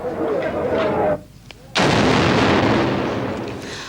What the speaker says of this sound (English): Today, police detonated what is thought to have been a 6th bomb, which failed to go off.